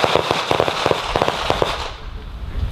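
Army rifle fired on full auto, a loud rapid burst of closely spaced shots lasting over a second, then a sudden drop to quiet, thudding rumble.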